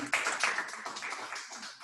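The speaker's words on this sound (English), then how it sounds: "Another round of applause for President Rachel Mulungi." A short burst of audience applause at a Rotaract club installation ceremony in Kampala, dense and steady, with many hands clapping together at moderate volume.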